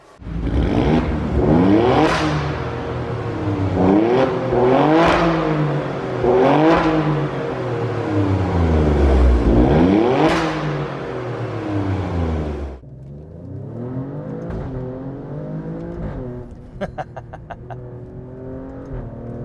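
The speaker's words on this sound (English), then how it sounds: "this is a 500 horsepower SUV, so let's get on the road and drive it" A 2020 Alfa Romeo Stelvio Quadrifoglio SUV with about 500 horsepower drives on the road, its engine repeatedly revving up and dropping through gear shifts, loud and close from inside, then settling into a steadier, quieter drone.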